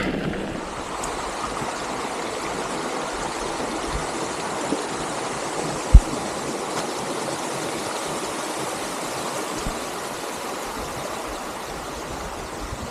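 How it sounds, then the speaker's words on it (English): Steady rushing water of Las Huertas Creek in the Sandia Mountains, a continuous broadband babble close by with no speech and one brief sharp knock midway. "This is beautiful Las Huertas Creek. This is the only running water in the Sandia Mountains."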